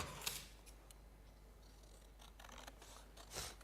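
Scissors roughly cut through card for a shaker card project, giving a few quiet, close snips spaced apart against a hushed background.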